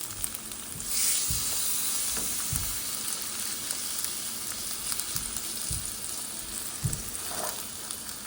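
Tofu fries in oil in a pan, giving a steady close sizzle and hiss with a few soft stirring or shifting bumps, no voices over it.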